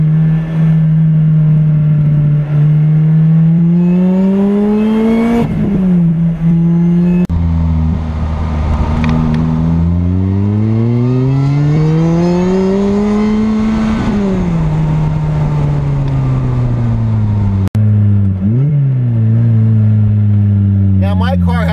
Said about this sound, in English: I don't hear as much supercharger because the exhaust is so loud